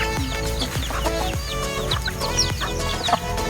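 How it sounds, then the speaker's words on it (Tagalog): Several free-range native chickens, hens and chicks, cluck and chatter busily close by, overlapping short calls with a few sharper squawks, steady and lively throughout. "Ayan po ay mga native chicken."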